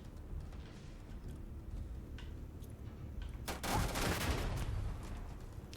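Gunfire in the space game Starfield, a run of sharp scattered shots followed by a louder, denser burst of firing, moderately distant and without speech.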